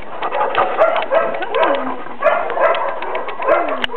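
A small dog barks and whimpers indoors in short repeated yelps with a few whining slides, close and fairly loud, in uneven bursts across the stretch.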